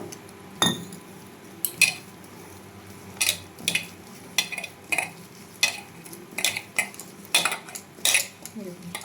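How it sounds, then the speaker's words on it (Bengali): Batter for bread pakora whisked in a bowl as water is added bit by bit, giving a run of quick, sharp clinks and scrapes of utensil on dish, close and fairly soft, with no talking. "অল্প অল্প করে জল দিয়ে আগে আমি ফেটিয়ে নেব"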